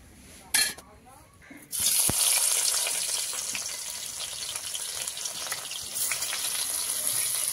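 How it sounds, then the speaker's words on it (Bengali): Prawns frying lightly in a pan give a steady, close, crackling sizzle that starts abruptly after a brief clatter and holds at an even level to the end. "তো চিংড়ি মাছটা আলতো আলতো ভেজে আর তুলে নেবো, বেশি ভাজবো না।"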